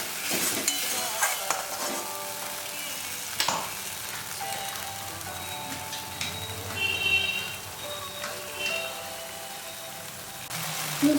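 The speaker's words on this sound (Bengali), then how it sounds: "ভালো করে কষিয়ে তেল ছাড়া না পর্যন্ত।" Spice masala fries in oil for a Bengali pabda fish curry, a soft steady sizzle broken by scattered clinks and scrapes of stirring.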